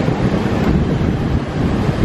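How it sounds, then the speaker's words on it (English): Choppy, confused sea waves on the Latvian coast at its pointy tip, a loud, continuous wash of surf mixed with heavy wind buffeting on the microphone, with no voices. "The waves over here are super confused."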